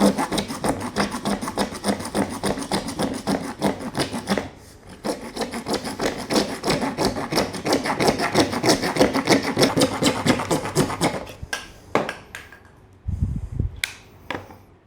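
A Goldblatt folding jab saw rasps through drywall in fast, steady back-and-forth strokes, a gritty sawing rhythm that pauses briefly midway, then trails off into a few scattered scrapes and knocks near the end.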